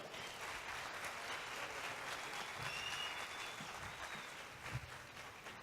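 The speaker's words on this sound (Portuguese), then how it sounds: "Eu quero muitas palmas para Alfredo Júnior!" Audience applause for a speaker at a business talk event, an even, continuous spread of clapping heard at low volume and from some distance.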